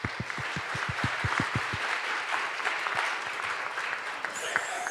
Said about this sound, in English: can I invite the audience to give them a round of applause for their consistent support to this seminar?